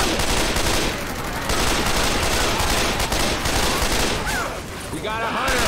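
Assault rifle gunfire in Left 4 Dead 2 is heard as dense, continuous bursts of loud automatic shots, with people talking over them.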